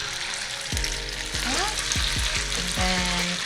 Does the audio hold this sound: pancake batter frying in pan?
yes